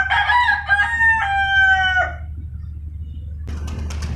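A hen gives a drawn-out, wavering call that lasts about two seconds and is close and fairly loud. Low background rumble follows, then a rustling rise of noise near the end.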